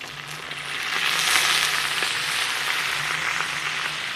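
Chicken fries in a pan for a Chinese-style pasta as soy sauce goes in. A close, even sizzle swells to a louder hiss and then holds steady with no voices.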